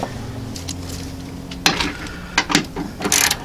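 An electric ratchet works on 10mm transmission mount bolts on a 2005 Toyota Corolla CE, giving a few sharp clicking and whirring bursts over a quiet mechanical background.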